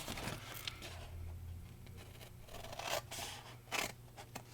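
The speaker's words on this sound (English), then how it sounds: "So I'm wedging in just a tad and then cutting straight up" Scissors cut through paper cardstock for a Stampin' Up! snack cracker box, close and quiet, with uneven snips, scraping rustles and a few sharper cutting bursts spread across the stretch.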